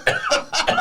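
A person coughs and sputters after eating hot wings, giving several short harsh bursts in quick succession, close and fairly loud, with a laugh-like, choking quality.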